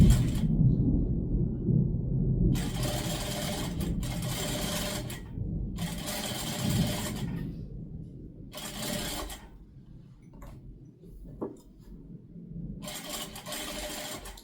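A sewing machine stitching a drawstring channel on a backless blouse, running in several loud rapid bursts of a few seconds each separated by pauses, with a low motor hum underneath.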